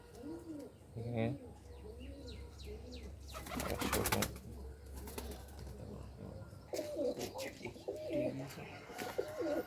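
High-flying, short-size Madras pigeons coo in repeated rolling calls at close range, with wing flutters and a voice speaking at times in between.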